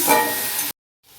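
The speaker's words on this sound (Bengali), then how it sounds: "যাতে পুড়ে না যায় আমি একটু জল দিয়েছি। আমি একটু কষে নিচ্ছি।" Egg curry masala sautéing in a pan with a splash of water added, a close, dense sizzle that cuts off abruptly, then returns more faintly after a short silence.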